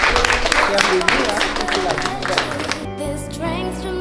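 Indoor audience applause at a community charity event in Tamatave, loud dense clapping for the first few seconds with voices mixed in, then fading as talk and other sounds take over.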